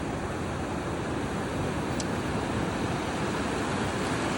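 Ocean surf roars steadily in a dense wash of noise, with wind mixed in; no voices, just continuous rushing water.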